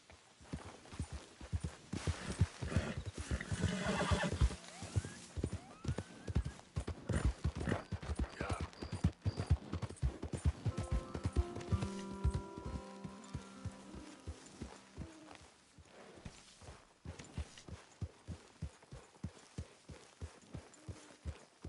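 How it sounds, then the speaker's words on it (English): A horse in Red Dead Redemption walks with steady, crisp clip-clop hoofbeats and lets out a whinny, the hooves continuing in a regular rhythm with a soft voice briefly heard partway through. "Get that horse out of here."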